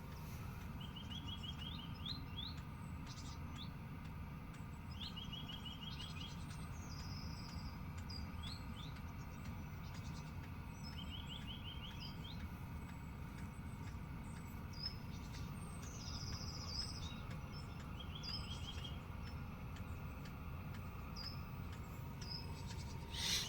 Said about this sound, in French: Là, j'entends encore les oiseaux, j'entends tout.